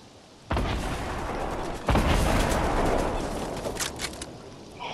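Gunfire from enemies shooting at the player in a video game erupts in dense, sustained bursts that start abruptly and stay loud throughout, with a second heavy volley joining partway.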